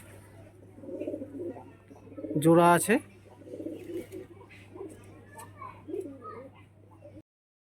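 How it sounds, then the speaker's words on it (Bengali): Pigeons in a loft coo softly in the background, with one loud close call rising sharply midway, while a person speaks briefly over them. "এই পায়রাগুলো সেল আছে, সবই সেল আছে"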